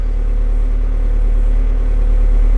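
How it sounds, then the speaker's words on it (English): An idling tractor runs while its PTO engages to drive a Trackless 14-foot rotary finishing mower, a steady low droning engine hum with a regular throb, close and constant, no voices. "Now with your tractor at idle, engage your PTO."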